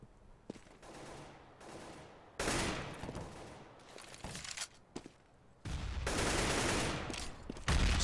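Rapid bursts of AK rifle spray in a Counter-Strike match, loud blocks of automatic fire separated by quieter stretches with footsteps and distant shots.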